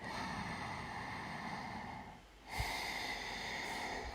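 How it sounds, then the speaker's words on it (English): Slow, deep breathing during an evening Hatha yoga practice: a long airy inhale or exhale, a brief pause, then a sharper nasal intake of breath, soft and close with no talking. "Continue the deep breathing here."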